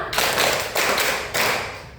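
Schoolchildren clapping together in a classroom: three sharp group claps in quick succession, loud and close, with no talking.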